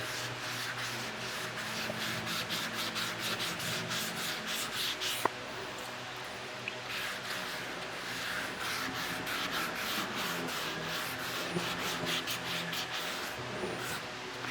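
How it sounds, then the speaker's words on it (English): Steady, rhythmic wet sanding of a helmet with sandpaper on a block, continuous back-and-forth strokes at close range with a faint wet hiss, no voices. "We're ready to go ahead and wet sand it."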